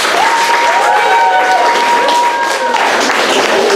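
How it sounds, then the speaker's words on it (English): Audience applause fills a reunion show venue, a dense steady wash of clapping with some crowd noise, loud and sustained throughout with a faint tonal whistle over it. "Everybody give them a big round of applause."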